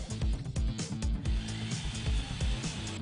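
A Bosch GSB 162-2 RE Professional impact drill runs loud and steady, its motor whine overlaid by a rapid rhythmic hammering pulse throughout, with no voices.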